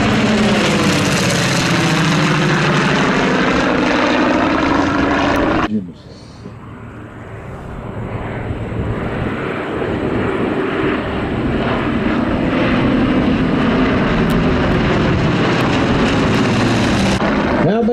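C-45 twin propeller aircraft engines roar loudly as the plane passes at a warbird air show, dropping off sharply, then the droning engine sound builds again and stays strong.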